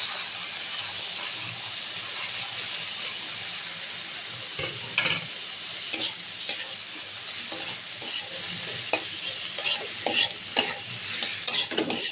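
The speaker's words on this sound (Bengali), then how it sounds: "এটা একটু হালকা ভেজে নেবো, বেশি ভাজবো না।" Boiled mixed vegetables for shukto fry lightly in a pan, giving a soft continuous sizzle broken by frequent clinks and scrapes of a spatula stirring.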